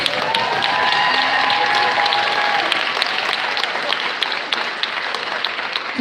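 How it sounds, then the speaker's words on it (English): An audience applauds a graduating class at a summer pinning ceremony, many hands clapping in a steady, full round that gradually thins out, with faint voices mixed in. "give them a round of applause"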